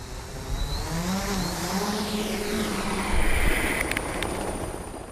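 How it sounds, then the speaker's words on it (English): A small camera helicopter drones overhead about 20 to 30 meters up, with a whirring rotor hum that shifts in pitch as it passes, steady and fairly close, with wind noise. "this small helicopter, that we were able to deploy and take our cameras just 20, 30 meters above"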